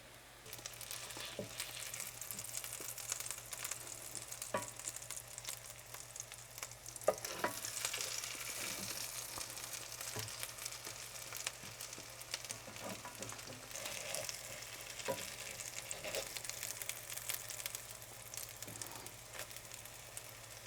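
Persian potato patties, Koko Seeb Zamini, fry in a pan with a continuous soft crackling sizzle and occasional light utensil taps, steady and fairly quiet with no talking.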